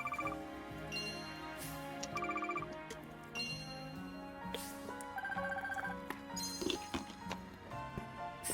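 Bright chiming notification tones ring out several times from a phone in the video game Pokémon Legends: Z-A, layered over soft game music at moderate volume.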